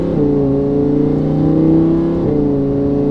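A Lamborghini Huracan LP610-4 engine warms up at idle, a loud, steady, close low drone with small shifts in pitch and no talk.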